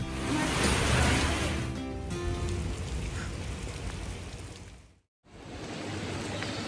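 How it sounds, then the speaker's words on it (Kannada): Steady, close rain pours down during travel between Phuket and Krabi in Thailand: a dense, continuous hiss of drops on surfaces that cuts out for a moment near the end before resuming, with no voices. "ಮಳೆ."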